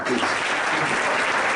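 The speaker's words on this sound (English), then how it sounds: "Give them a big clap" A short burst of clapping from a group in a session room, dense and fairly close, lasting under two seconds while a voice briefly speaks over it.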